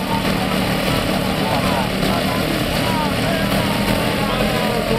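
A homemade helicopter drone's 16-horsepower engine runs with a loud, steady, close droning roar that continues throughout without a break.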